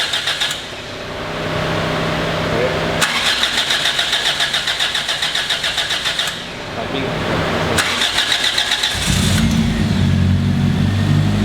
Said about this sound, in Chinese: 成功发动了我的engine